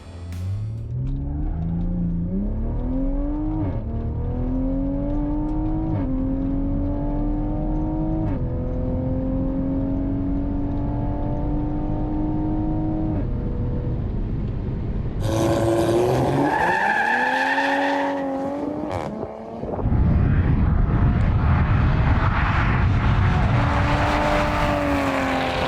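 Turbo Honda-powered MR2 on 305 Street SS drag radials and factory 19-inch wheels making a drag strip pass: a loud, close engine repeatedly revving up through gear shifts, then a harsher roaring burst and sustained full-throttle howl, with no talk.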